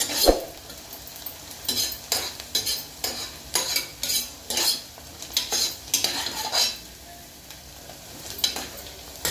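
Onions frying in oil toward golden for mutton gravy, soft continuous sizzle broken by a regular rhythm of spoon scrapes and stirring knocks against the pan, close by, no speech.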